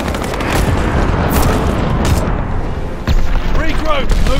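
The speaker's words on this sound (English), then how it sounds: "Enemy glide bomb incoming." Glide bomb explosions and gunfire in Call of Duty Vanguard: dense, loud rumbling blasts and crackling shots throughout, with a sharp new impact partway, under some voices.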